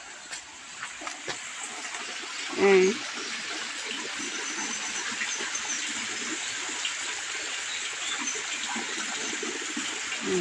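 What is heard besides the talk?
water trickling in a stream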